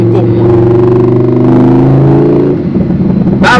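A Lamborghini Huracán engine drones loudly at a steady rev, then the pitch drops and roughens as it settles lower.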